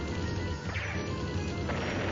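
Unit attack hits in Advance Wars: Days of Ruin, loud crashing impacts with heavy low booms, two distinct bursts landing over a dense, continuous barrage.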